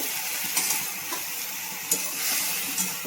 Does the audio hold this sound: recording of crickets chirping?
no